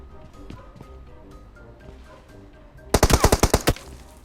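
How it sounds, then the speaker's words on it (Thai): Automatic gunfire in the mobile game PUBG Mobile, on the foggy Sanhok map, erupts after a quiet stretch as a loud, rapid burst of about ten close shots. "ใครมายิงกูวะ"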